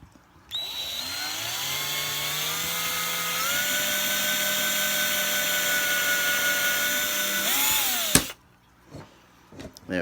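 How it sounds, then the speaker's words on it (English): A power drill spins up and bores a second hole through a piece of wood, a loud steady motor whine lasting around eight seconds with a small pitch rise midway, ending with a sharp click and quiet handling sounds. "Both of those are drilled all the way through."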